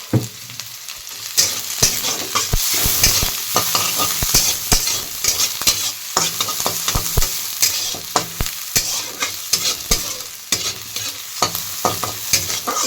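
Dried red chillies sauté in a little oil for Orissa-style prawn thokku: a close, steady sizzle broken by frequent sharp spatula clicks and scrapes against the pan in an uneven stirring rhythm.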